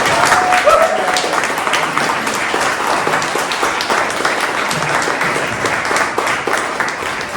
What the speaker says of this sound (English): Let's give Jay one more round of applause